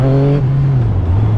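Yamaha MT-09 SP motorcycle accelerating hard in first gear, a loud, close engine roar whose tone rises sharply then steps down and climbs again as revs build, with no talking.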